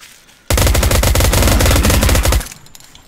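Sustained automatic gunfire from a weapon in the video game Garry's Mod, a loud, rapid burst of shots rattling continuously for about two seconds, then cutting off to near silence.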